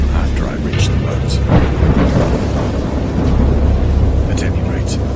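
Rumbling thunder rolls through a violent storm, a deep sustained low roar with heavy rain texture, loud and continuous, with faint higher crackles over the top.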